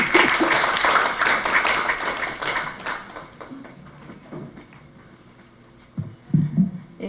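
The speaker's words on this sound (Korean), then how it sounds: "여러분 조그만 박수로 맞이해 보도록 하겠습니다." Applause from a forum audience welcoming a university professor to the stage, dense clapping for about three seconds that thins out and fades, followed by a few scattered sounds near the end.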